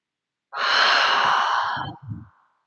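Deep breathing during a yoga class: one long, close, airy exhale that trails off into a short final puff of breath, alone in the quiet.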